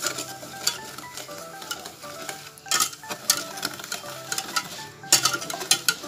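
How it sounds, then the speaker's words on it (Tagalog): Sugar and cream of tartar being stirred in a pot for boiled icing, with repeated scraping and clinking of a utensil against the pan over a soft background hiss, close and irregular. "ilagay ulit natin ang ating sugar and ang cream of tartar. So, ito po ay hahaluin natin."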